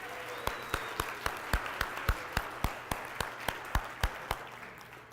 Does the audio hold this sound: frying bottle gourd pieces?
no